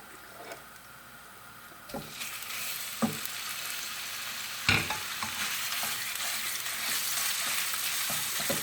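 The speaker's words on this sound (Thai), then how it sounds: "หลังจากเจียวหัวกระเทียมได้ละจะชิ้นหมูมะขั่ว" Minced pork stir-frying with fried garlic in a hot pan: a steady sizzle that swells over time, punctuated by several sharp spatula scrapes and stirring knocks, close and continuous with no voices.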